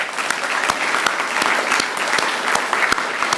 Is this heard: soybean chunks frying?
no